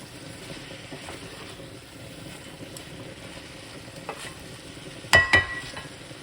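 Vegan food sizzles quietly in a frying pan as it is stirred, a soft steady crackle with a few sharper scrapes and clinks of the utensil near the end.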